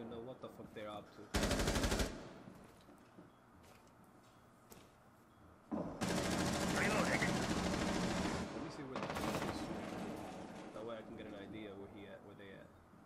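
Gunfire in the game Rainbow Six Siege: short loud automatic bursts break out amid quieter clatter, then come sustained stretches of rapid shooting, and voices talk in between.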